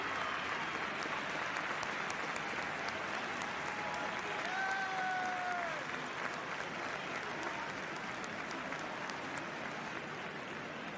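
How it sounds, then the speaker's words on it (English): Steady, sustained applause from a large rugby match crowd fills the whole stretch at an even level, with faint whistle-like tones briefly rising above it midway. "he'll get a round of applause"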